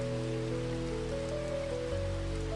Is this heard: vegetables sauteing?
no